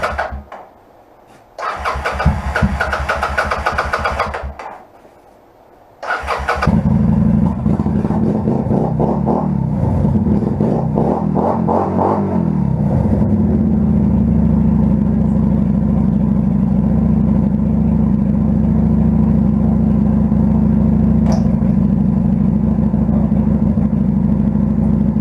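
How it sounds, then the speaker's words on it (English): A motorcycle engine with the choke on catches after a false start, cuts out briefly, then restarts, revs up and down a few times under throttle and settles into a loud, steady idle. "Idles with the choke on. I can give it some throttle."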